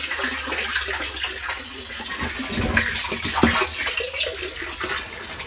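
Water runs slowly from a village tap, a low, uneven trickle and splash that rises a little midway before easing off, heard on its own.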